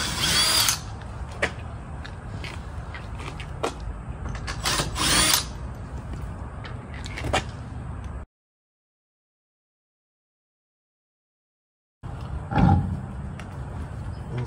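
Power tool buzzing in bursts while removing the wheels of a 2021 Honda Ridgeline for a tire rotation, loud and close, with a silent gap before another short run of tool noise.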